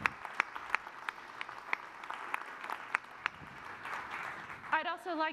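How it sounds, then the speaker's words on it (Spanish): Conference audience at the Concordia Americas Summit applauds, sharp individual claps standing out over a broad wash of clapping, before a speaker's voice comes in at the end. "Démosles un aplauso a ellos por todo lo que han hecho."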